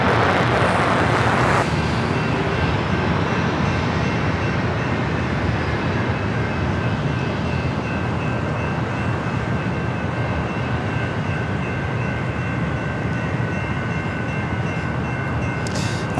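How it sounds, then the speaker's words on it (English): A Lufthansa Airbus A350 airliner crosses runway 27 at San Diego airport, its loud continuous jet roar filling the scene with a steady broadband rush and a faint high whine, no voices. "the Lufthansa A350 now crossing over 27"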